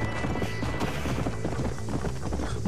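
Rapid, steady hoofbeats of a galloping horse in Red Dead Redemption, a loud dense drumming that runs without a break over a busy game soundtrack, with no talking.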